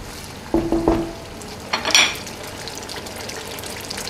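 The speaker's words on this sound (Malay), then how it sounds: "Kita masakkan cili ni sehingga betul-betul masak." Chili paste for chili crab cooks in a pan with a low background sizzle, broken by a few close clinks and scrapes of a utensil stirring it.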